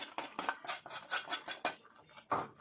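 A spoon scrapes and taps pounded ginger and garlic into a cooking pan: a string of quick, close metallic scrapes and clinks at an uneven rhythm, fairly soft, with no voices.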